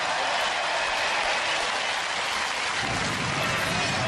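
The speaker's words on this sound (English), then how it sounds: "a big round of applause for both of our teams" A studio audience at a Robot Wars robot combat tag team match applauds both teams. Dense, even applause fills the whole stretch like a hiss of rain and swells slightly toward the end, with no voices clearly above it.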